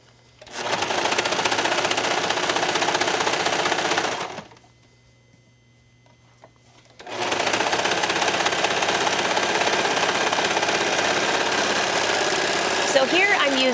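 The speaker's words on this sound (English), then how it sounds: "So here I'm using a 4-thread overlock stitch." An overlocker sews a 4-thread overlock stitch with contrasting threads on knit fabric, running in two long steady bursts with a pause between them, loud and close.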